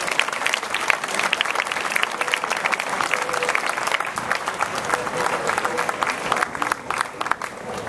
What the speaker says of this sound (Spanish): despedimos a estas exquisitas puertas con un fuerte